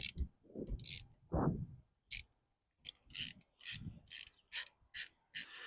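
A ratchet wrench works a 3/8 nut off a trim relay on an Evinrude E-Tec outboard, giving bursts of quick clicking ratchet strokes separated by pauses, with some low handling clunks, close up and without speech.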